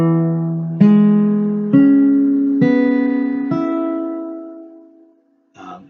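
A blues chord on guitar is struck four times in a slow, even rhythm, each strum ringing out and decaying cleanly, with a brief voice at the very end.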